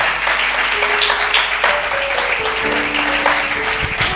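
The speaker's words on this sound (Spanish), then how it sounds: "Dale ese aplauso al Señor" A church congregation applauds the Lord during worship, steady dense clapping with a sustained tone beneath, loud and continuous throughout.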